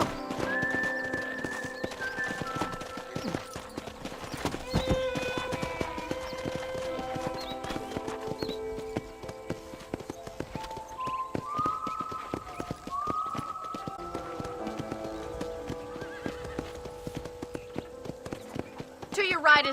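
Horse hooves clip-clop at a steady trot in the Red Dead Redemption western game, running under music and spoken dialogue, with a whinny in the mix.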